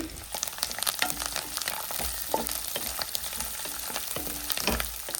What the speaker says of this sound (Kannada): ಇದಕ್ಕೆ 2 ಎಸಳು ಕರಿಬೇವು, ಹಾಗೆ 1 ಈರುಳ್ಳಿನ ಹಾಕಿ ಸ್ವಲ್ಪ ಫ್ರೈ ಮಾಡಿಕೊಳ್ಳಿ